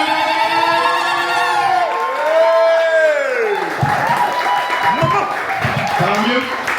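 An audience at a cosplay contest cheers, whoops and applauds continuously, with loud rising shouts and clapping close by and voices mixed throughout.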